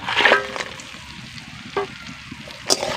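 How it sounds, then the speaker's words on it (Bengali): Crab and okra frying in a pan, soft sizzling broken by a few sharp scraping stirs and clinks, the loudest near the start and near the end. "এবার কাঁকড়া ঢ্যাঁড়সকে আরও তিন মিনিট মতন সময় ধরে ভেজে নেব"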